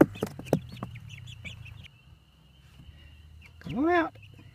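Chickens cluck and chatter close by, with a voice speaking over them and a louder squawk near the end.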